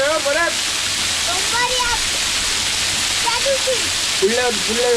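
A hidden waterfall in Zirad rushes with a constant, loud hiss of falling water, and several people talk over the roar.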